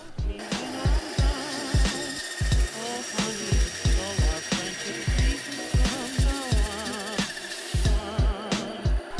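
Plastic Rubik's cube pieces being cut with a tool produce a rapid series of loud, close, rhythmic grinding strokes with rattling, wavering mechanical tones between them, continuing steadily without talk.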